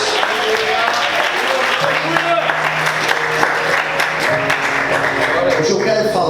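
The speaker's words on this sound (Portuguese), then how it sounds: "Quantos podem glorificar e aplaudir Jesus?" Dense applause from a large church congregation fills the clip, with steady clapping and sustained musical tones and some voices underneath.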